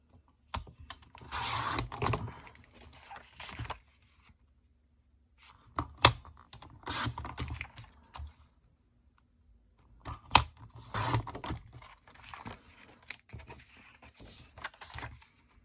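Cardstock for card making is trimmed in three bursts of rapid clicking and slicing strokes from a paper cutter, separated by brief pauses, close and fairly clear with no talk.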